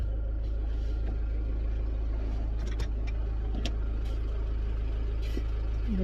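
A vehicle engine runs steadily through its exhaust pipe, a constant low rumble with slight revving swells, heard alone without talk.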